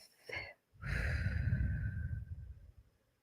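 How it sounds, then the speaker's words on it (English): A short inhale followed by a long, audible sighing exhale, a deep breath taken close to the microphone that fades out slowly. "taking that deep breath"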